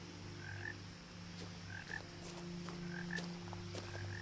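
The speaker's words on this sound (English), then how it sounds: "I hear a frog. The frog is a reoccurring character." Frog croaking in the video game What Remains of Edith Finch, repeated short croaks at an even pace over a steady ambient hum, with no voices.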